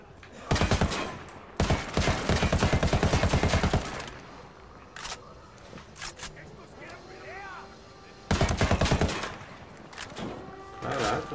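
Ghost Recon gunfire rattles out in two long, loud volleys of rapid automatic shots, separated by a quieter stretch with scattered sparse shots.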